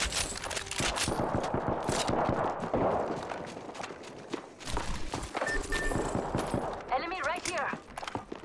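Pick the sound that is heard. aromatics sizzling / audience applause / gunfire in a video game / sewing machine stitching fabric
gunfire in a video game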